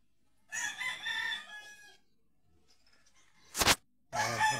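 Fighting cocks crowing, one long drawn-out crow up close followed by a sharp clatter and the start of another crow, with quiet gaps between.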